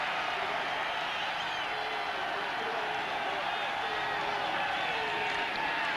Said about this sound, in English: the crowd getting back into it, trying to exhort the defense